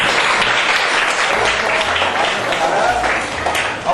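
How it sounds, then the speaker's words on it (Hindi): Schoolchildren clapping at a school program, a steady wash of applause with voices mixed in throughout. "ताली बजा दीजिए।"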